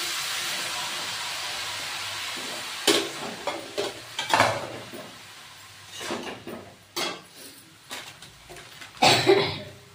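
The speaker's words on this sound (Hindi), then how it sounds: "तो दोस्तों, मसाला अच्छे से भून गए हैं और इसमें लौकी को डाल देते हैं" Diced bottle gourd going into fried masala in a pan, a hissing sizzle at first, then irregular stirring scrapes and clatters, close and fairly loud, with a brief cough.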